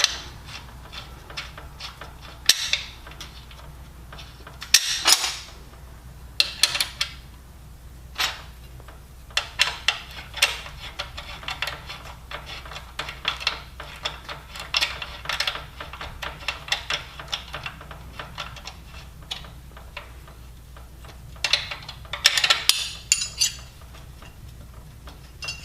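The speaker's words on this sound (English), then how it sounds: "I'm going to put the included cap screw through the hole, through the ground strap, and nut it on the back." Small metal clicks and ticks from a cap screw and nut being fastened through a ground strap while a Fabturn is assembled, quiet and irregular, with sharper clusters of clatter near the start, middle and end.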